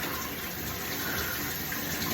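Shower water runs in a constant, loud, close hiss with no breaks and no talking.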